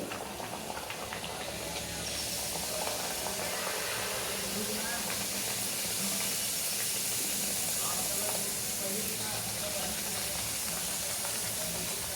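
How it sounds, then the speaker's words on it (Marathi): Puri made with red pumpkin dough frying in hot oil produces a continuous bubbling, hissing sizzle, fairly faint and steady throughout, with a voice speaking softly over it. "तेल तापले, आता पुरी घेते तळून।"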